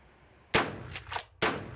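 Adler A110 lever-action shotgun firing in a Brisbane warehouse: two loud, sharp blasts about a second apart, with a quieter metallic action clack between them and echoing decay after each shot.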